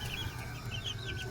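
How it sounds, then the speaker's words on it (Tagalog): Chickens on a backyard farm cluck steadily at close range, their calls overlapping and continuing without a break, with no talk. "Sayang mga manok natin dito."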